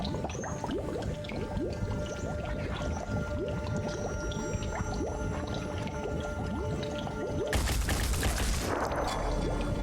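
Weapons fire in the video game Phoenix Point as a dense, continuous crackle of rapid shots under game ambience, ending in a louder, harsher burst near the close.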